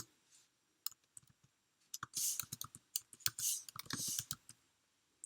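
Sharp mouse clicks on an OK button in data-analysis software, a quick scattered series of crisp taps with a few bursts of keyboard-like clatter, close and fairly quiet.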